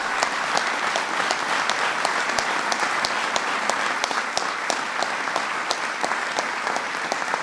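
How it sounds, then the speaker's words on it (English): Large audience applauding at a presidential bill signing for public lands protections, a steady, full wash of clapping with sharp individual claps standing out near the microphone throughout. "That's something worth applauding."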